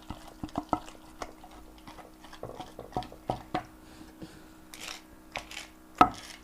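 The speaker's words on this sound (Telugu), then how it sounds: "ఇట్లా దంచుకుంటేనే బాగుంటుందని" Tomato and sesame chutney pounded by hand, dull irregular thuds and knocks of pestle against mortar, close and fairly quiet, with a sharper strike near the end.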